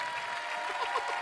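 Studio audience applause on a Star Academy season 3 prime-time show, a steady, moderately loud patter of many hands with a faint tonal hum beneath it.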